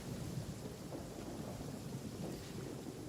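Kuuvahki lightning crackling in Genshin Impact, heard as a steady low thunderstorm rumble with rain-like hiss, continuous and moderately quiet with no talking.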